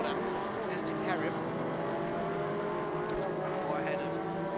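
Toyota MR2 race cars at Rockingham drone steadily down the straight in a continuous engine buzz of several cars, moderately distant, with faint passing whines over the top.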